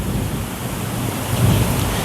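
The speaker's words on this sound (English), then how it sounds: "You may get some external sounds as it's raining heavily." Heavy rain falls outside as a steady, dense broadband hiss with a low rumble, constant and unbroken throughout.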